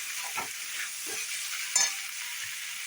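Boiled potatoes stirred into upma (suji) in a pan, a soft continuous hiss of cooking with a few distinct scraping strokes of a spatula, close and fairly quiet, no voices.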